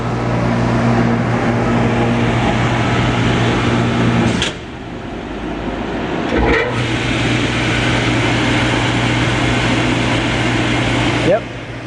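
A Fluoroware HTC 8010 cassette and box washer running through its drying stage, a loud steady mechanical roar of fans and airflow with a couple of abrupt drops and knocks as it shifts.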